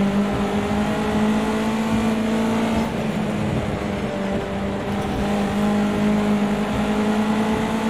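Race car engine in the video game Project CARS 2, a loud, steady high-revving drone with a dip around a gear change before it climbs again, close and continuous with no talk.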